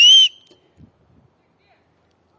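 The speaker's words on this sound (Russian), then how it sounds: "Ой, опять я свистнула." A person whistles one short, sharp, bright note outdoors in a forest, loud and close, followed by near silence with a few faint rustles.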